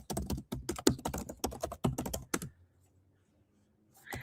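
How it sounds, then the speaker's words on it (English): Rapid bursts of typing on a computer keyboard, clattering keystrokes for a couple of seconds, then a pause of near silence before a few more keys resume. "I'm going to type it in"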